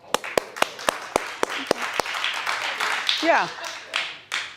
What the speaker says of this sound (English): He's gonna clap if you're reading.